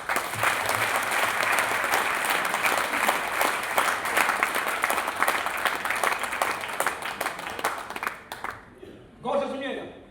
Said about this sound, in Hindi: एक बार ताली बजा दी तो बता